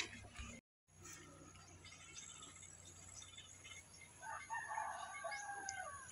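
A crowd of chickens near a farmyard with pigs, roosters crowing and hens clucking in a busy overlapping chorus, fairly close, with a brief dropout near the start and a longer crow rising toward the end.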